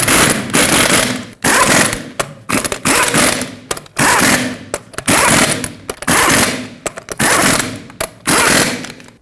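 Tightening lug nuts on a 2011-2016 Ford F-350 wheel: loud, close mechanical bursts of a power tool, each lasting about a second, repeat with short gaps between them. No voices.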